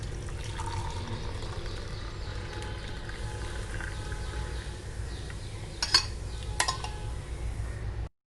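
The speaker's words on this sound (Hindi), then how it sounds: "सबसे पहले मैं यहाँ पे डिटॉक्स को छान लूंगी।" Barley water detox drink is poured through a strainer, giving a soft trickling liquid sound with light utensil clinks and a couple of sharper metallic taps near the end, close by and without talking.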